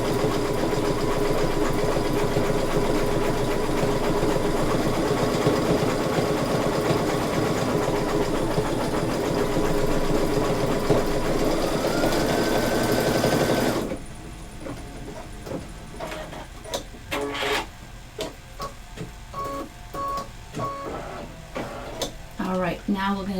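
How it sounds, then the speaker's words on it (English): An embroidery machine stitches an open zigzag around a design's perimeter, a steady fast mechanical whirring hum for about fourteen seconds before dropping off into quieter clicks and thumps. "So it's doing that open zigzag stitch all the way around the perimeter."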